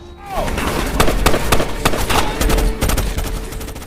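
Rapid bursts of gunfire ring out loud and close in a film action scene, shots overlapping in quick succession with heavy thuds and booms.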